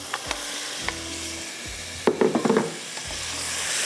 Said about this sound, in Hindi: गोश्त को अच्छा सा भुनिएगा